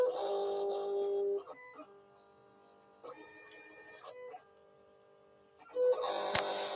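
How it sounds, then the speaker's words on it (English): An electronic cutting machine scanning cardstock for registration marks gives quiet whirring motor tones that step through several pitch changes as the carriage moves, then a louder burst and a clack at the end. "The machine's going to go find those registration marks."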